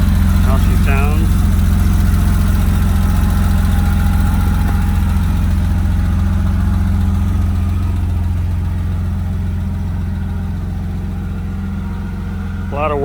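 A 1976 Porsche 911S Targa engine idles steadily with a deep, even rumble that holds for the whole stretch, fairly loud and close, with a couple of brief voice-like squeaks near the start and end.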